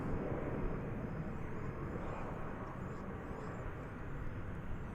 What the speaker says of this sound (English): American Flight 2963 off to San Antonio